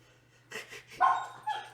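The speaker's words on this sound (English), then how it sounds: "What are you guys barking at?" Dogs barking nearby in a few quick, sharp bursts over less than two seconds, with a whimpering yip between them and a low steady hum underneath.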